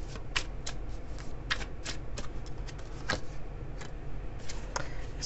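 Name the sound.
shuffling and pulling a tarot card from deck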